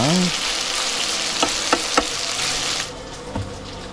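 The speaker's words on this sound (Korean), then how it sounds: "삼겹살이 맛있게 익고 있습니다." Pork belly sizzling and crackling in a hot pan at a rainy campsite, a steady frying hiss with a few sharper pops and a scrape of stirring.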